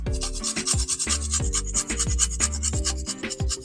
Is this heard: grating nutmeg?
yes